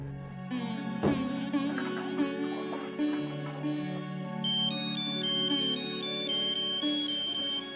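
A phone ringtone plays as a bright melodic tune of sustained tones over a warm low bed, opening with a sharp accent and then turning into a high, repeating chiming pattern. It is heard alone, with no voices.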